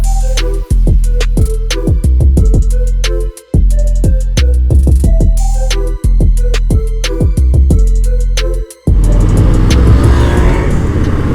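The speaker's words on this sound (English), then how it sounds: "There's Bell speeding away, unleashing the power of his Ducati, the Diavel" A Ducati Diavel motorcycle engine, loud and close, revs hard through repeated rising surges with brief gaps at each gear change, then settles into a rough roar as it speeds away on a road near Shulagiri.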